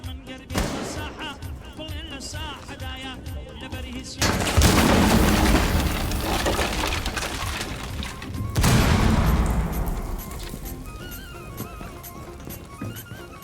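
A bomb explodes in the tactical shooter Rainbow Six Siege, loud booming blasts at about four and nine seconds, each rumbling away amid game music and gunfire while players talk.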